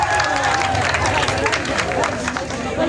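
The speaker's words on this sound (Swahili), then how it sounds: "Wapi makofi ya Simon Kibe?" A crowd claps and cheers for Simon Kibe at a lively gathering, dense sustained applause with loud overlapping voices throughout, close and full.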